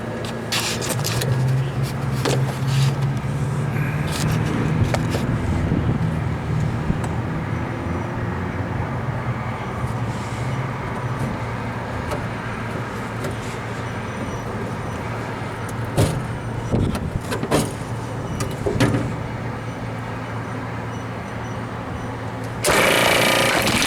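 A 1/2 HP condenser fan motor runs on a refrigeration condensing unit, giving a loud, steady mechanical hum and whir throughout, with scattered clicks and knocks and a louder surge at the very end.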